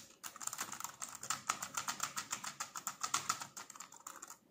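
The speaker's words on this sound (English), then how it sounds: "So you can use the Bluetooth keyboard." Rapid, steady keystrokes clatter on a Bluetooth keyboard paired with a TECNO Spark 7 Pro phone, a close run of crisp clicks lasting several seconds with no talking.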